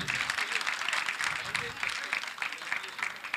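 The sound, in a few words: audience applause at a media festival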